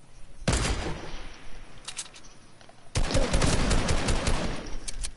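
Video game gunfire during a sniping fight, two loud, sharp bursts of shooting, one near the start and a heavier one around the middle, each trailing into echoing rumble.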